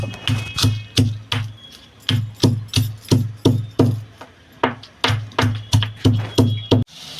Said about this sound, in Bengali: প্রচণ্ড ঝাল এই লঙ্কাগুলোতে ভেজে রেখেছিলাম ওটা গুঁড়ো করে নেবো